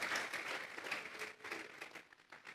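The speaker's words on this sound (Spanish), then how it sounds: "Vamos a regalarle ofrenda de palmas al Dios de la gloria." A church congregation claps in worship as an offering of praise, giving a soft, continuous patter of many hands that fades slightly toward the end.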